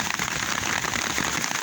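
Steady rain patters densely on a surface outdoors, a continuous hiss of drops with no talking.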